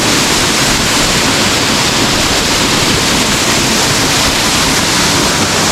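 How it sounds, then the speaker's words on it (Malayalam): Pampanal waterfall in Kottayam district, a steady roar of falling water filling the air close by, broad and unbroken with no voices over it. "എൻ്റെ പുറകിലാണ് ഈ വെള്ളച്ചാട്ടം"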